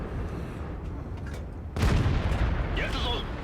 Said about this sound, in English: there's the artillery again shooting at me